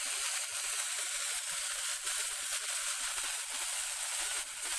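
Wet bean leaves spit and crackle in hot coconut oil with popped mustard seeds, a dense, steady sizzle with rapid scattered pops continuing throughout, close and fairly loud with no voices.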